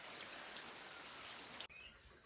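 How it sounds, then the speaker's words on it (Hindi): Light rain falls steadily outdoors as a dense, even patter of drops that continues throughout, close and fairly quiet, then changes abruptly near the end to a duller, more muffled texture. "देखो थोड़ी थोड़ी हल्की हल्की बारिश लगी हुई है।"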